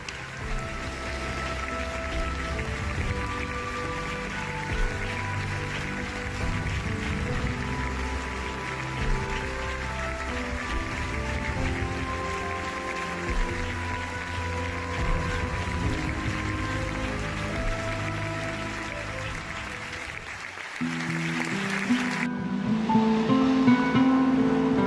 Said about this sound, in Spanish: Los más de 3 minutos de aplauso.